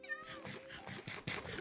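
A cat in the game Minecraft meows repeatedly in short, quiet mews over a brief stretch, with faint background sound and no speech.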